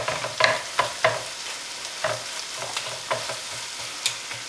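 Peeled, deveined shrimp hit a hot pan of tomato masala curry and sizzle steadily, with a string of sharp stirring scrapes and clinks rising above the frying hiss.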